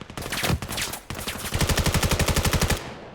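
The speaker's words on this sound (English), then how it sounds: "More shots ring out towards B." Rapid automatic gunfire in a competitive 5v5 first-person shooter match, a short burst followed by a steady, evenly spaced stream of shots, loud and close, with no talk over it.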